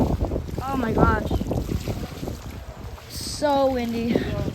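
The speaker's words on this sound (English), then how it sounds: "it's getting pretty windy out here" Strong gusty wind buffets the microphone outdoors during a severe thunderstorm with 40 mph gusts, a steady rushing roar as people talk and exclaim over it.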